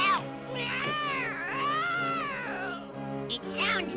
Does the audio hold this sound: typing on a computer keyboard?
no